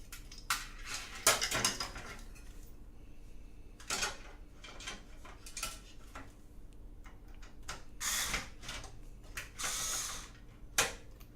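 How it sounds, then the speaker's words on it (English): While a cheap gaming PC is assembled, an electric screwdriver gives short, sporadic mechanical whirs and ratcheting clicks close by, separated by quiet gaps, with light metallic handling noises. "Electric screwdriver."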